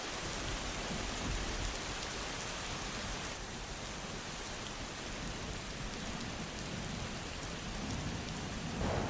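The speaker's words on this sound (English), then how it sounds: "laced with soft rain and thunder, crafted to chill you and soothe you into sleep" Soft rain falls in a steady, dense hiss for several seconds, with low, distant rumbles of thunder beneath it and no voices.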